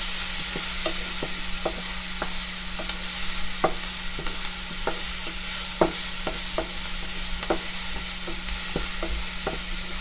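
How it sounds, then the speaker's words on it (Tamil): Onions sautéing in a pan for sprouts kootu, a steady loud sizzle with repeated short scrapes and taps of a spoon stirring throughout. "கட் பண்ணி வச்ச வெங்காயத்தை நல்லா வதக்கணும்"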